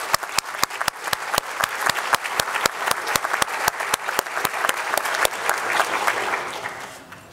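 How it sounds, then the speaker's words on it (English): Audience applause at a memorial service: one crisp, close clapper keeps a quick, regular beat over a softer crowd of clapping that swells, then fades away at the end. "So let's give them a big applause."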